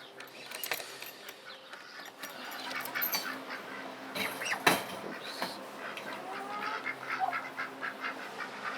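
A duck quacks repeatedly inside a coop at night while other birds shuffle and call nearby, a steady low-level clamor with no talking.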